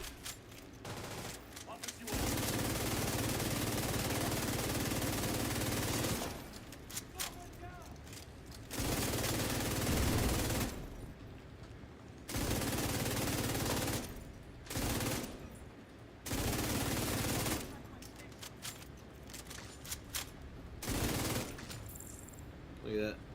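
Sustained bursts of video game gunfire from shooting down enemies, loud and dense, coming in long stretches separated by brief quieter gaps with a voice talking in some of them.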